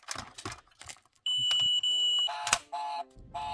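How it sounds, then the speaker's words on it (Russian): A toy 1:24 BMW M3 E30 model car sounds its alarm, a sharp electronic chime followed by steady beeping tones in quick bursts, preceded by a few clicks from handling. "Открыли дверь. Сработала сигнализация."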